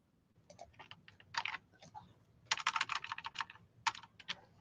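Typing on a computer keyboard, quick bursts of close, crisp key clicks in irregular clusters with short pauses between runs, fairly quiet and with no voices.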